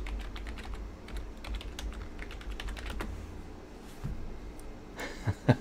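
Keys clatter on a computer keyboard as a name is typed, a steady run of quick clicks over a low room hum, with a couple of sharper taps at the end.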